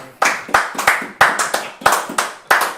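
A small group claps by hand in about seven sparse, uneven bursts, each a quick cluster of claps trailing off, close and moderately loud with no voices.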